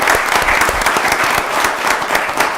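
An audience at a county board of commissioners work session applauds for the parents, a steady, loud wash of many hands clapping together with a few sharper individual claps near the front.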